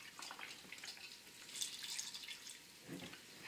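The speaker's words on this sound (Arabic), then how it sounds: "غادي ندير غير نص ديال الحليب" Milk is poured for an avocado and date juice, a faint trickling, splashing stream that runs steadily throughout with soft irregular drips.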